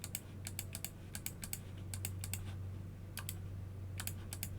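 Keys on a computer keyboard tapped in small bursts of two to four crisp clicks, near and fairly quiet, over a steady low hum with no talk.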